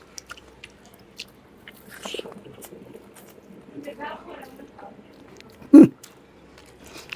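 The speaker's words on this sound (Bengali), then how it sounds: "বাস পরে একটা লম্বা বাইট দিব।" Someone bites into and chews rice mixed with mashed potato and fried vegetables, giving soft wet munching close to the mic, with one loud crunchy bite near the end standing out above quiet surroundings.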